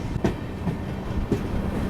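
A Sealdah–Jalpaiguri Humsafar train rumbles low and steady at an empty station, with a couple of soft clacking thumps from the wheels, heard up close.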